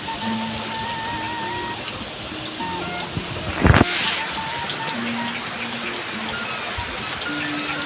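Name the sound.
rain in remote rice fields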